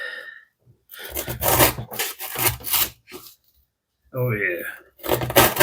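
A folding knife saws through thick 3/4-inch jute rope on a wooden cutting board, giving several loud rasping strokes in bursts with short pauses between them. Someone speaks briefly between the cuts.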